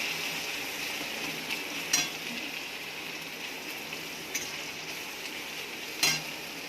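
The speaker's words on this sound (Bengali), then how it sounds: "পেঁয়াজটা ভাজা ভাজা হয়ে গেছে। এবার হচ্ছে রসুন বাটাটা দিয়ে দিচ্ছি" Garlic paste dropped into onions already frying in a pan gives a steady close sizzle throughout, with a few sharp spitting bursts as it hits the hot oil and is stirred.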